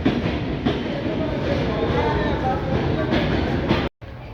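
An intercity passenger train, the Chitra Express, rumbles past close by near Ullapara railway station, Bangladesh, with a steady, heavy roar and faint clattering of wheels, cutting off abruptly near the end.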